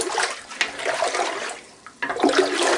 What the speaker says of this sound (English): trying to stir it as much as I possibly can